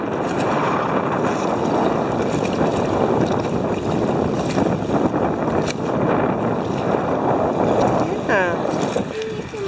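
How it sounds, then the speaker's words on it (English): Strong wind on a beach hike, a steady roar of gusts buffeting the microphone for the whole stretch, with a brief faint chirp near the end. "Yeah, it's a pretty windy day."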